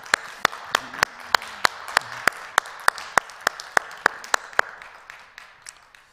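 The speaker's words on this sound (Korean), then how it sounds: "살아계신 하나님께 영광의 박수를 올리겠습니다." A church congregation clapping in praise during a Sunday worship service, loud, sharp claps in an even, steady rhythm of roughly three per second that continue for several seconds before softening and trailing off.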